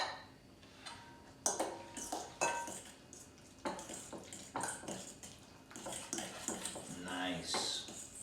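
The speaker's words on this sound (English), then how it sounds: "Now give that another little mix." A BLT dip is mixed in a bowl, giving scattered scraping and clinking strokes of a utensil against the dish, fairly close and quiet, with people talking over and between them.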